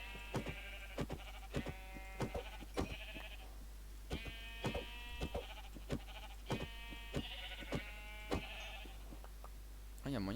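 Sheep in a Minecraft hardcore world bleat repeatedly, short wavering cries recurring every second or so over a steady low hum, with quick clicks scattered between them.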